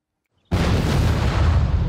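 A barbecue grill blowing up in a Final Destination film scene: a sudden loud blast after silence, followed by a sustained roaring rumble that fills the rest of the moment.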